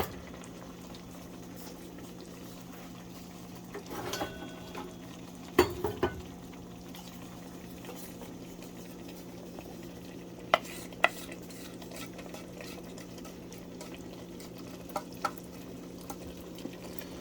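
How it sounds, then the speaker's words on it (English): Roux being stirred into a simmering pot of roast pork and sauerkraut, a low bubbling under a few scattered spoon scrapes and clinks against the pot. "You're going to want to stir this in."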